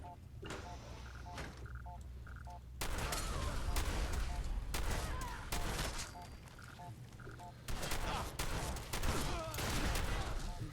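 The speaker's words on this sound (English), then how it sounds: "Keep firing!" Gunfire in Fallout 4 rings out in rapid, loud bursts of overlapping shots, with quieter gaps between volleys, against a background of game sounds and faint beeping tones.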